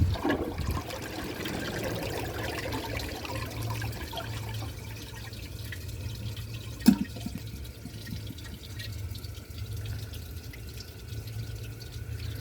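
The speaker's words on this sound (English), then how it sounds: "Let's give it another flush and see if it can take it." A 2005 Briggs Abingdon toilet flushes with a steady rushing and trickling of water that runs on for many seconds, broken by a single sharp click midway.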